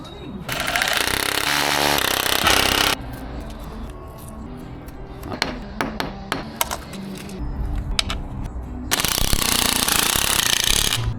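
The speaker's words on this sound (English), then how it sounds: "Let's do some drilling." Two loud, sustained bursts of power drilling at the start and end, close by, with quieter clattering and knocks between them.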